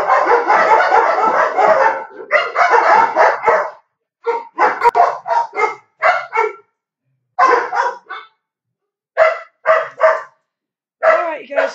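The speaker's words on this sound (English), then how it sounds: "I'm gonna have to let that black dog in, Crystal." A black dog barks in repeated loud bursts, close by, the barks coming in clusters with short pauses between them, alone without talk.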